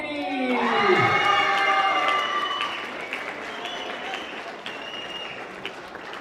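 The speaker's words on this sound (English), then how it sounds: "big applause for Emiliano Zinbini" An audience at the U19 boulder finals in Graz applauds and cheers for the first-place climber, loud clapping and cheering following an announcer's voice, then settling into a steady crowd murmur.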